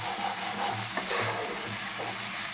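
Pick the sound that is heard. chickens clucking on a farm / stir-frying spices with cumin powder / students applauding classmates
stir-frying spices with cumin powder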